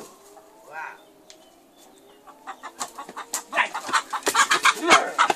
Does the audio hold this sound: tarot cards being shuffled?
no